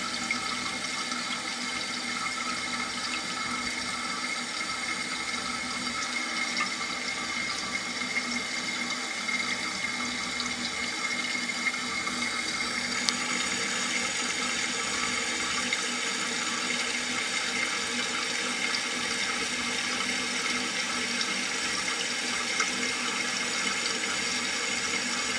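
Toilet tank refilling through a freshly reopened water supply line after a flapper adjustment, a steady hiss and rush of water running unbroken and fairly close for the whole stretch, with no talk over it.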